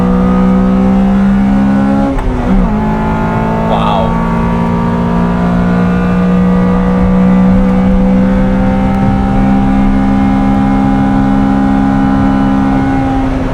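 A Honda Civic Type R EK9 on the Nürburgring, its VTEC four-cylinder engine droning loud and close from inside the cabin as revs climb steadily, with a brief shift partway through.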